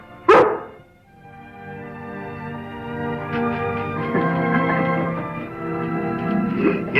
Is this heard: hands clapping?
no